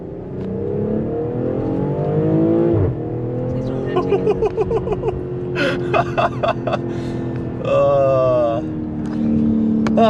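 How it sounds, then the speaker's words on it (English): A 2020 BMW X3 M40i engine revs and rumbles, with popping exhaust burbles and crackles on downshifts, while a person talks and gasps over it. "those downshifts, it's got that nice like burble and crackle"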